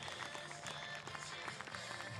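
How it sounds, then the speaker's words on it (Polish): A crowd applauds steadily for a horse-drawn carriage driving run at a competition in Sierakow, a dense continuous clapping that stays fairly even throughout. "Duże brawa"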